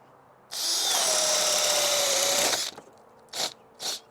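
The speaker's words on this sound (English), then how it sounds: "all right, I didn't drill here, so let's do it." A Ridgid cordless drill on a 4 amp-hour battery whirs steadily at close range for about two seconds, then winds down, followed by two short bursts of the trigger.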